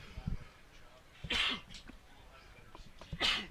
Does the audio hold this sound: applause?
no